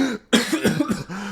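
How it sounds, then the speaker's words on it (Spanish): A single person clears their throat after a harsh cough, giving one sharp onset followed by a run of rough, guttural pulses close to the microphone with no talk. "Afortunadamente ahorita no me ahogué, nada más tuve que aclarar un poquito la garganta"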